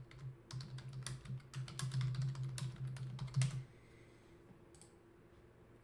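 Rapid clicking bursts from typing on a computer keyboard, close and fairly quiet over a low hum, stopping partway through and leaving only faint background noise.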